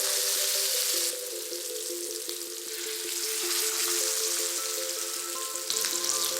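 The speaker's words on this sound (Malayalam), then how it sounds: "ഇനി ബാക്കി 2 മീനും കൂടി നമുക്ക് വറുത്തെടുക്കാം." Steady, loud sizzling of mackerel frying in hot oil, a dense continuous crackle with a brief dip and swell, no voices.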